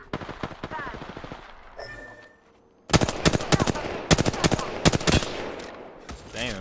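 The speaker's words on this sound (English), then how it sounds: "Already on my mark, firing for effect." Rapid, loud, close bursts of gunfire in the Apex Legends battle royale game, with quick volleys of sharp shots and a short lull in the middle, while a voice talks early on.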